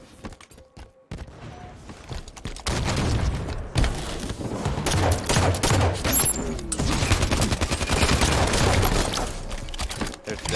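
Sustained rapid gunfire and booming blasts in Halo 5 multiplayer, a dense chaotic barrage that builds after a quieter opening and carries on loudly with scattered impacts and mechanical clanks.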